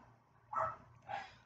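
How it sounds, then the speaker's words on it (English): Two short barks from dogs in a yard, spaced about half a second apart, moderately loud against a quiet background with a low hum. "the dogs are having a good time barking at strange people in the yard"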